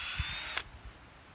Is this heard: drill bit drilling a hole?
yes